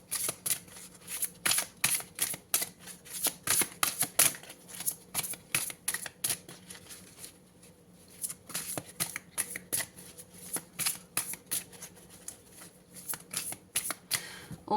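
Tarot cards are shuffled close up in quick, crisp riffling bursts, repeating in clusters with a short pause partway through.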